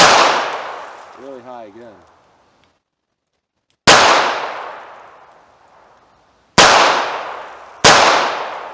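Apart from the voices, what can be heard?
revolver gunshots at target practice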